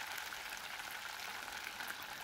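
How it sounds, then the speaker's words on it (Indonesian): Chicken for ayam serundeng fries over high heat in hot oil, giving a steady, soft crackling sizzle throughout with no talking. "ini kita gorengnya dengan api besar"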